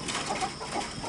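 Juvenile chickens moved to a new coop cluck softly and steadily, a dense, continuous chatter of several birds close by, ending in a short louder burst.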